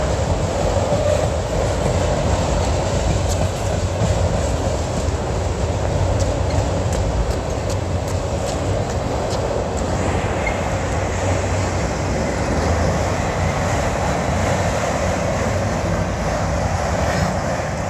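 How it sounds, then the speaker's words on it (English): Freight train cars roll through an abandoned former Central of Georgia/Southern rail yard, giving a loud, steady rumble broken by a cluster of sharp metallic clanks from slack action. No one speaks. "Major slack action."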